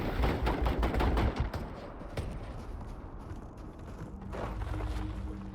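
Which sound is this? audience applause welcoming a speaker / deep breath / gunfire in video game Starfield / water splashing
gunfire in video game Starfield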